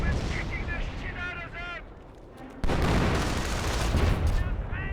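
Artillery shells from the World War II strategy game Company of Heroes slam down in a heavy booming blast with a rumbling tail, following a softer stretch of battle noise while a commentator speaks over the action.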